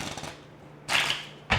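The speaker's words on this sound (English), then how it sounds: "I could do a false riffle shuffle right here." Playing cards riffled in a false riffle shuffle, a quick close flutter of snapping cards followed by a short second burst.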